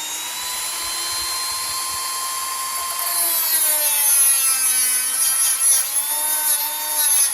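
A Dremel rotary tool whines at high speed while cutting a part on a Mercury Marauder, one-handed and close, its pitch rising and dipping as it bites into the metal, loud and continuous without speech.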